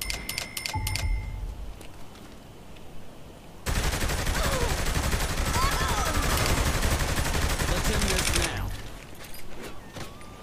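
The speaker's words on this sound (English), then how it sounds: "Crap, they're shooting." Police shooting in Saints Row The Third, a loud, sustained burst of rapid gunfire that lasts several seconds and follows quieter clicks and game noise, with some voices and vehicle sounds mixed in.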